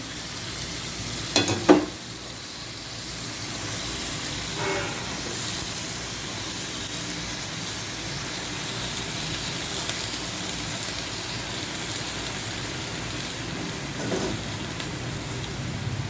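Pechay greens sizzle and hiss steadily in a pan with canned sardines, a continuous close frying crackle with a few louder clatters of stirring near the start.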